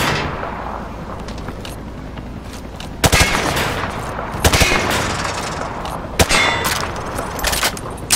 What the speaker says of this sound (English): Adopt the crouching stance and aim down your sights. I need you to fire while crouched,